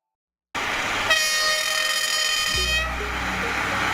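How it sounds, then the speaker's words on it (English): Rail bus, a lightweight bus-like train for rural or quiet railway lines, sounding a loud sustained horn over steady rumbling running noise, with a lower engine tone coming in near the end. "Rail bus. A lightweight, bus-like train often used on rural or less busy railway lines."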